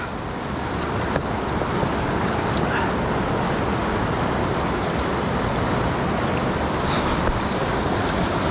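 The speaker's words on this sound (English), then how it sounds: "Use the sound of the rapids as your guide." Rapids on a river at Ohiopyle in January: a steady, loud, broadband rush of fast water that stays constant throughout, with a faint wind-like hiss over it and no voices.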